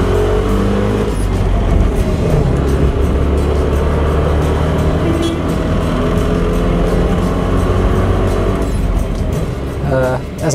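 A single-cylinder vehicle engine drones loudly and steadily while driving along a road, its low throbbing running continuously throughout, with wind and road noise mixed in and a voice talking over it.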